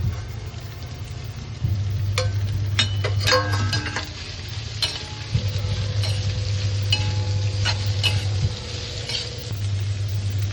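Capsicum, onion and cabbage are stir-fried with carrots in a pan for noodles, giving a steady sizzle broken by spatula scrapes and metallic clinks over a low appliance hum.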